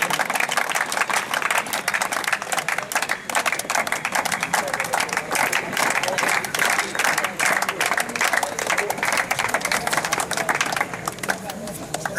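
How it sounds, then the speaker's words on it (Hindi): An audience claps for first-year students at a college freshers' party, dense continuous applause at steady loudness for about twelve seconds, with voices faintly mixed in. "जोरदार तालियां बजाइए हमारे प्रथम वर्ष के छात्रों के लिए।"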